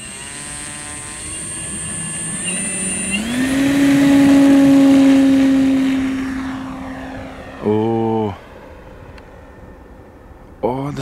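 A large Carbon-Z T-28 Trojan RC warbird model with a 2.0 m wingspan takes off, its electric motor and propeller rising to a strong whine that fades as it climbs away. A voice is heard, and short bursts of close noise break in near the end.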